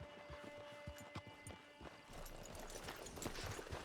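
Steady clip-clop of horse hooves at a walking pace in the video game Red Dead Redemption 2, fairly close, with a faint steady hum underneath and no talking.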